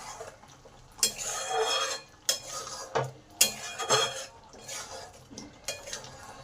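Metal lid lifted off a pot of simmering Bengali prawn and potato curry (chingri posto), sharp clanks and scraping knocks in an irregular series, close and moderately loud, with faint bubbling in between.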